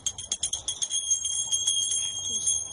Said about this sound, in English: Why is this bell have such an ear-fitting sound?